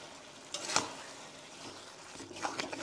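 Spiced mutton keema sautéed in a pan without water until the oil separates, a faint, low sizzle with a couple of soft scraping stirs; quiet and close, no voices.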